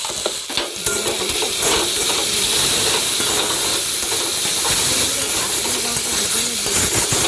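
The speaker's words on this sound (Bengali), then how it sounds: "টমেটো ভাজতে ভাজতে অল্প একটু নুন আর হলুদ গুঁড়ো" Tomatoes with ginger, salt, turmeric, Kashmiri chilli and cumin powder frying in a pan for fish-head dal, giving a loud, steady sizzle and hiss with scraping stirs throughout, no talk.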